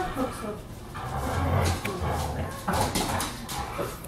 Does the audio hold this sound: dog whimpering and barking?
yes